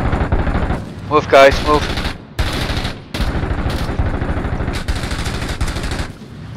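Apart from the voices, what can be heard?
covering gunfire in the video game Six Days in Fallujah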